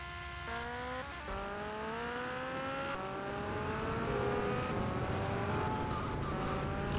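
A motorcycle engine in GTA Vice City, a continuous whining drone that rises in pitch through gear changes as the bike accelerates, loud and steady with no talk.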